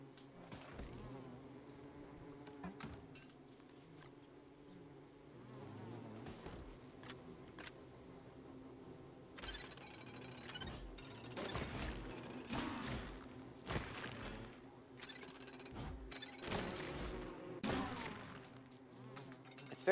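Bees drone around their hive in the video game Don't Starve Together, a faint steady buzz broken by scattered sharp clicks and taps from gameplay.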